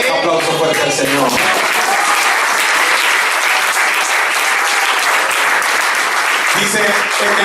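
A church congregation at a Sunday service breaks into loud, sustained clapping after a voice finishes speaking, the applause dense and steady.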